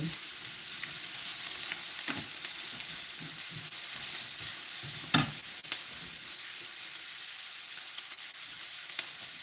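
Vegetables sauté gently in a pan with a steady, soft sizzle, broken by an occasional louder crackle or clink of stirring, close by and without talk.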